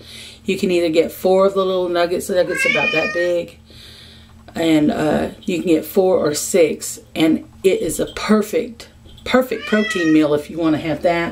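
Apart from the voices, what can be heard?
pet cat meowing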